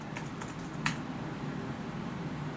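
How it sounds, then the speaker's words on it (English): A few light, quick key clicks on a computer keyboard, clustered early and faint over steady room hum, then nothing but the background. "you're going to type in services"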